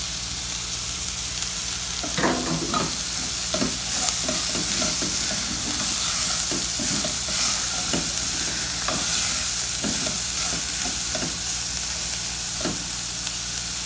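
Leek sizzling and frying in a pan with Tuscan sausage, a steady close hiss with scattered stirring scrapes and pops throughout.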